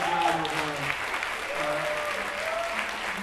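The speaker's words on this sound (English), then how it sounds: "Let's give them a round of applause." Audience applause at a YouthBuild ceremony, continuous clapping from a crowd with faint voices and murmurs mixed in.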